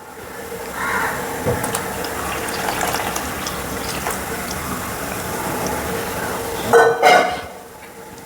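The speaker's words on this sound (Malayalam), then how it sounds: "മൂന്ന് മുറി തേങ്ങയുടെ തലപ്പാലാണ് ഞാൻ ഇതിൻ്റെ അകത്തോട്ട് ഒഴിച്ചു കൊടുക്കാൻ പോകുന്നത്" Thick first-press coconut milk from three coconut pieces pours into a cooking pot. It makes a steady, close liquid stream, with a few clinks and splashes near the end.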